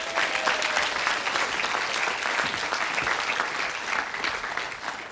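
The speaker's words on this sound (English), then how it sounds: "Chris, ladies and gentlemen, a round of applause, please." Studio audience applause on the TV quiz show Blockbusters, dense sustained clapping from a crowd that holds steady throughout and tapers slightly at the close.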